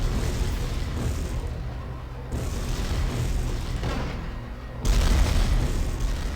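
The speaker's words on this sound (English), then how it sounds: "just throwing mortars over there like crazy" Mortar explosions in the Star Wars The Clone Wars video game boom over continuous battle noise, a dense rumbling wash with a heavier blast near the end.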